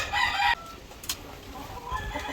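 A rooster on an egg-laying chicken farm gives one loud, close crow lasting about half a second, followed by quieter farmyard background with no talking.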